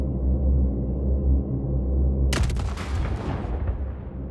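Missiles fired in the space game Star Citizen: a low rumbling hum gives way to a sudden loud blast that crackles and fades over about two seconds.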